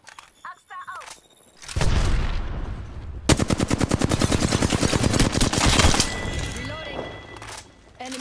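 Video game gunfire: after some quiet game sounds, dense loud bursts of rapid automatic shooting and explosions roll on for several seconds, followed by softer in-game effects, with a voice in the mix.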